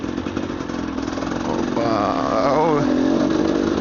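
A supermoto motorcycle engine revs up close, rising from a rough idle into a louder climbing whine, with a brief exclamation from a voice.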